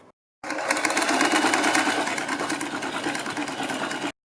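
Sewing machine stitching a seam on a girls' top, a fast steady mechanical whir with rapid needle chatter running for about four seconds after a short silence, close and continuous.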